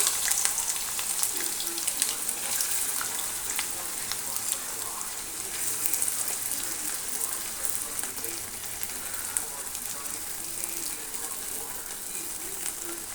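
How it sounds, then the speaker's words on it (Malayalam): Chopped ginger sizzles and crackles in hot coconut oil for Kerala inji curry, a continuous, close frying hiss with small pops throughout. "നമുക്ക് ഇഞ്ചി ഇട്ടിട്ട് ഒന്ന് ഫ്രൈ ചെയ്തെടുക്കാം"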